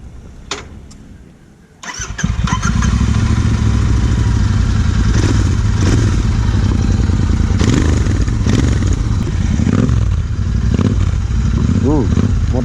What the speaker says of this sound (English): So after a long time, back to the stock exhaust.